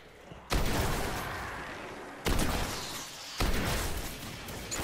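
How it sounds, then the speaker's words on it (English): Gunfire in the video game Destiny, three sudden bursts of loud, noisy shots at roughly one-to-two-second intervals, each tailing off into a sustained wash of sound. "Who the hell is shooting me?"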